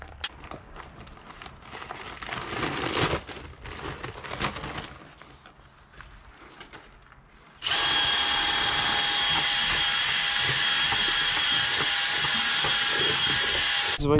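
A power drill with a mixing paddle churns stone veneer mortar in a bucket, first grinding and clattering unevenly, then a steady loud high whine from about halfway on, close by with no one talking.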